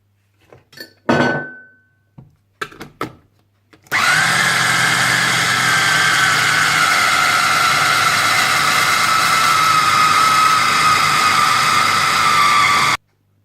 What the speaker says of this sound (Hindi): और इसे अच्छा सा चॉपराइज कर लें।